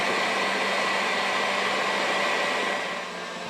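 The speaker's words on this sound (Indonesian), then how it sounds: "Pada dasarnya mixer akan menarik udara, dimasukkan ke dalam adonan." Electric mixer whisking cake batter, a steady close whirring hum that drops slightly in level near the end, with no talking.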